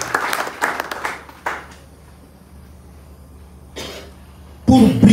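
A church congregation breaks into brief rounds of applause, first a cluster of claps, then a quiet lull with a cough, before a louder burst of clapping returns near the end.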